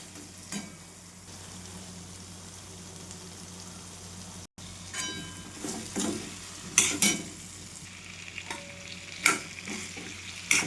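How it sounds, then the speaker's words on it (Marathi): Capsicum bhaji masala sizzling in hot oil while being stirred, a low steady fry punctuated by sharp scrapes and clinks of the spoon against the pan, growing busier toward the end, with no talk. "छान शिजून घ्यायचं असं मसाला आहे ना गरम तेलामध्ये"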